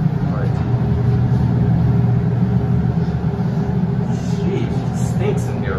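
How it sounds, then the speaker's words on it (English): Loud fan running beside a hydraulic elevator in the 13th St MFL SEPTA subway station in Philadelphia, a constant heavy rumbling whoosh that never lets up. "It's got a loud ass fan."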